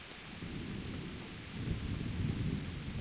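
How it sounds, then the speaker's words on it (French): A thunderstorm in the Kingdom Come Deliverance video game gives a steady low rumble of thunder that swells midway, layered over a continuous hiss of rain, fairly faint and with no voices. "Et nous voyons les éclairs. La fureur de Zeus"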